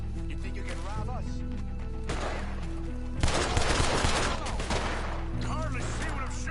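Video game gunfire crackles in dense bursts over a steady musical drone, with heavier volleys near the middle and voices speaking alongside.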